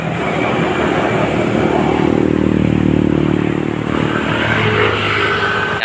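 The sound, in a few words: vehicles passing on road under the esplanade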